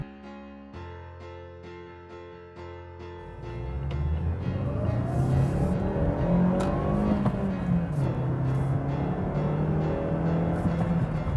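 A Mazda3's 2-liter engine revs up from a low idle into a rising, growling acceleration, the pitch climbing and wavering as it pulls hard, with faint tones at the start.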